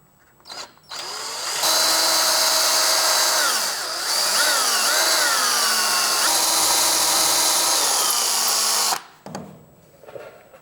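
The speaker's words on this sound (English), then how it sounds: "I'm going to step up in drill bit size and drill a slightly larger hole now." A power drill bores a larger hole through a broken bolt during an RX350 oil cooler line job, running loud and steady for about seven seconds with pitch dips under load, between brief quiet pauses.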